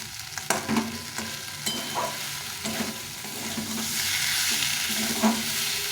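Green jackfruit being sautéed with onion and spices in a pan, a steady sizzle with spoon scrapes and stirring knocks at irregular intervals, close and moderately loud, no talking.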